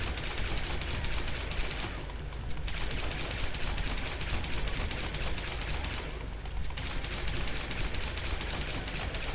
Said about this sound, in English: Here's another cache, so we'll just shoot them all out